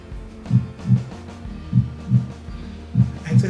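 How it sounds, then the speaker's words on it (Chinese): A synthetic heartbeat sound effect from the OBS Studio audio library plays three evenly spaced lub-dub double thumps. They are deep, soft and alone, with no talk. "这个心跳好怪哦"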